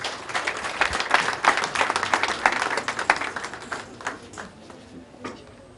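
Audience at the official launch of a party school applauding, a burst of many hands clapping that starts strong and gradually thins out and fades over several seconds.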